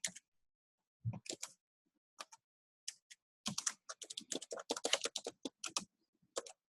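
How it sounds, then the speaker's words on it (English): Fingers tap on a computer keyboard in uneven bursts, starting with a few isolated keystrokes and building to a quick run of clicks, close and dry in a quiet room. "And then you just start typing in"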